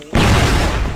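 A flash grenade detonates in a first-person shooter game, a sudden loud close blast after a brief quiet moment, followed by a sustained harsh, ringing wash of noise.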